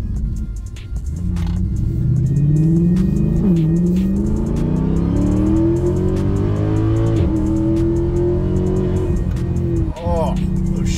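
A Mercedes E63 AMG with a 6.2 V8 pulls hard up close, its loud engine note rising through several gears with audible dips at each shift, and a voice briefly heard over the roar.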